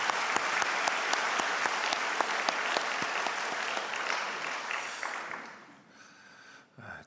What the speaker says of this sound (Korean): 그 모든 분들에게 다시 한번 감사의 박수를 올리겠습니다.